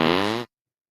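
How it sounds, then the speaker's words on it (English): A fart sound effect on a comedy talk show: one loud, close, buzzy raspberry lasting about half a second, then cut off abruptly into silence. "Daniel, who would you like to fart on?"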